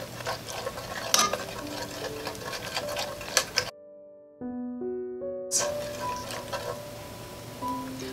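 Black-eyed peas stew browning and sizzling in a pot, with stirring scrapes and clinks over a continuous fry, interrupted midway by a short musical tone passage before the sizzling resumes.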